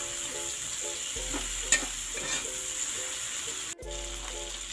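Chicken pieces go into a hot pan of tomatoes for chicken afritada, producing a steady, close sizzle of frying with stirring scrapes and a brief dropout near the end.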